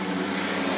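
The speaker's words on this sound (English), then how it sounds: "Sorry about that noise, we've got skydive planes that take off regularly from literally" A skydive plane taking off near a hotel in Dubai, a steady close propeller-engine drone heard alone.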